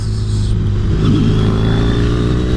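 A blacked-out Triumph Bonneville motorcycle engine runs steadily and loud up close, with a low, even engine tone through the whole stretch and no voices.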